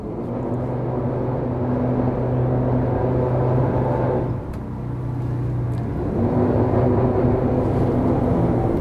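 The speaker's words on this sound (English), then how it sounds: "using both the thrusters and the main engines" A Sunseeker Predator 74 yacht maneuvers stern first into a dock on its thrusters and main engines: a steady, loud low engine rumble that dips briefly midway, then swells back up.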